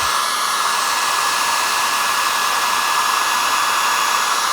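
A hair dryer blows steadily and loudly at close range, drying a wet watercolour painting of a Scottish scene before mounting, with a constant airy whir and no pauses or talk.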